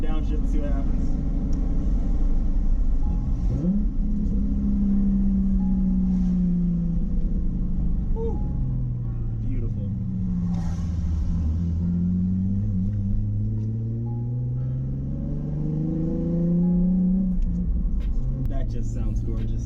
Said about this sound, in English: we're about to go for a second gear downshift and see what happens.